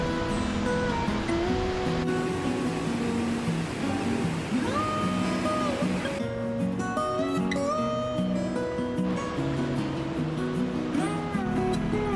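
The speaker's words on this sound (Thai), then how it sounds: "เป็นน้ำตกที่ใหญ่มากๆสูงด้วยนะคะ" A steady, heavy roar of rushing water from a large, tall waterfall near Doi Inthanon fills the whole stretch, broad and continuous, with faint tonal sounds drifting over it.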